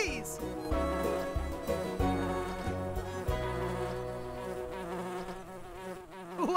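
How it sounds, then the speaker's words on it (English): Bumblebee gives a loud, steady, low buzzing drone close up, wavering in pitch as it hovers, continuous throughout with a brief higher whine at the start. "Bumblebees can fly in cooler temperatures than many other kinds of bees."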